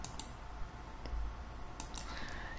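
A handful of faint, sharp mouse clicks tick out sparsely against a quiet room background as a tool is picked in GeoGebra geometry software.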